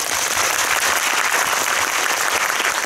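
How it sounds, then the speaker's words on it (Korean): Sustained applause from a cinema audience at a post-screening Q&A for the film 'PMC: The Bunker' at CGV Yongsan I'Park Mall, a dense, even wash of clapping that runs steadily throughout without any voices. "박수 한번 보내주십시오"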